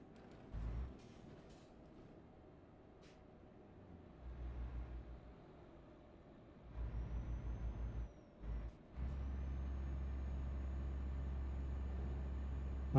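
A car engine revved hard at full throttle, labouring and failing to pull, rising in steady droning surges that build to a sustained loud roar near the end.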